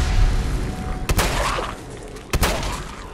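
Gunfire in Fallout 4 rings out as two sharp, loud shots about a second apart over a busy game background, with no talk.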